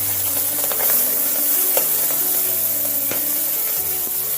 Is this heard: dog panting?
no